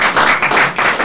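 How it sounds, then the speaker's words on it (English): Short burst of clapping from a church workshop audience, a loud, dense patter of hands swelling in waves over about a second with no voices. "let us give a clap to the Lord"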